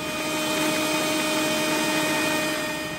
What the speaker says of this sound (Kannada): ಈಗ ಇದನ್ನ ಒಂದ್ಸರಿ ತರ್ತರಿಯಾಗಿ ರುಬ್ಕೋತೀನಿ.